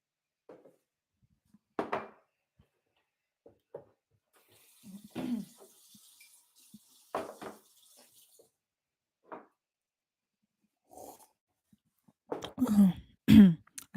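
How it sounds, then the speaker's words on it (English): Drinking water is poured in short, separate splashes, quiet at first and then louder and closer near the end, with silence between the bursts and a brief throat-clearing sound. "I have to drink some water"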